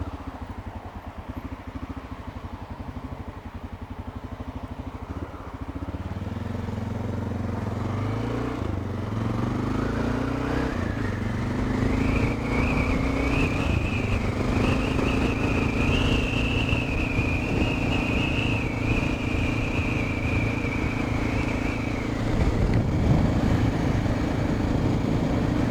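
A 1989 Honda NX650 single-cylinder motorcycle riding in traffic, its engine loud and close, idling low then revving up through rising gear pulls into a steady cruising drone with wind noise, no talk.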